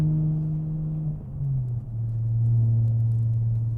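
Exhaust of a 2013 BMW 335i Coupe fitted with a BRSF downpipe and muffler delete, a deep, loud droning rumble that dips briefly as revs shift, then settles into a steady low growl at cruise.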